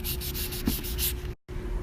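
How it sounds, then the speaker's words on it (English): Rhythmic hand strokes of 320 grit sandpaper rub across a plastic car headlight, a close, repeated scratchy rasp that breaks off for a brief pause before resuming. "go over the entire headlight with the low grit sandpaper until you see all of the imperfections out"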